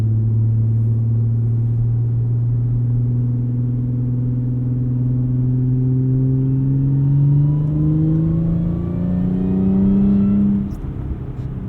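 A 2013 Audi B8.5 S4 all-wheel drive holds a steady loud engine hum at the line for launch control, the revs then climbing smoothly in pitch before dropping off near the end.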